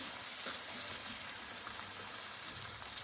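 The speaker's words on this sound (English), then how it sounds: "Bacon grease and onions." Onions frying in bacon grease give a dense, steady sizzle close up, with faint crackles and spits throughout and no talking.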